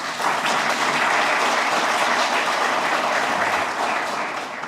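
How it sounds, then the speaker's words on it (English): Audience applause for members of the Howard County Police Department at an Elkridge community meeting, a dense, steady clapping from a large crowd that holds loud for nearly five seconds and eases off slightly at the end. "Please give them a big round of applause."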